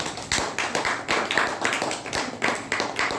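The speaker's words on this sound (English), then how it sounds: "Okay, big round of applause for her." Applause for a speaker at a meeting: a small audience's hands clap in dense, uneven rounds of sharp slaps that keep coming at a steady strength and rise in a few surges.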